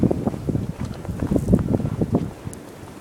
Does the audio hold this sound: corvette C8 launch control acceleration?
no